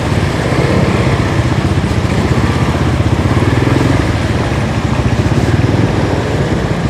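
Motorcycles run steadily through a flooded road during a typhoon, their engines putting out a loud, continuous buzzing drone close by with no pauses.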